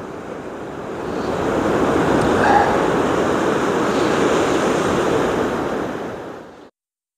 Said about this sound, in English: The wind is horrible.